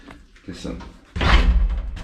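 A heavy footstep thuds onto an old lift floor in Belgrade, a loud low boom following quieter shuffling, with a voice talking nearby.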